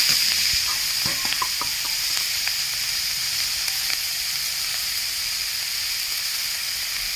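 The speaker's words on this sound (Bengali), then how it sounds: "দেখুন সবজিগুলো আমার হালকা করে ভাজা হয়ে গেছে" Vegetables sizzling as they fry in a pan for homemade chicken soup, a steady close hiss with a few clicks of stirring early on, then a smooth sizzle that keeps going.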